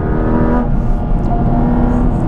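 Mazda Miata on Kumho Ecsta Sport tires lapping a dry track near its grip limit, a steady loud engine drone with layered harmonic whine continuing throughout, close and without talk.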